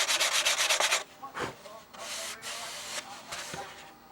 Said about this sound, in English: this last little bit I need to trim off here just to give myself a little clearance